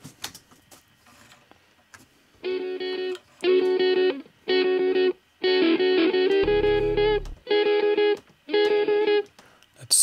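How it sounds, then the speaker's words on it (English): Electric guitars run through heavy effects, supporting a brass section, play in a choppy, repeated pattern of sustained bursts separated by short gaps, loud and distorted. "We have some effect guitars in the end."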